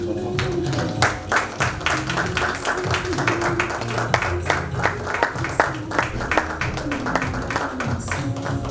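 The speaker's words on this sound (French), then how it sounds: "vos applaudissements, s'il vous plaît" Applause at a wedding reception for Brigitte and Francis, a sustained round of crowd clapping with sharp individual claps over a steady wash of hands, alongside some talk.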